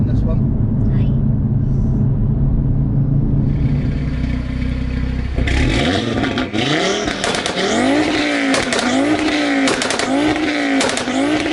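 A 700bhp Audi RS3 revs hard and accelerates, its engine noise loud and continuous; a steady low drone gives way to rising and falling rev sweeps in the second half, with speech over it.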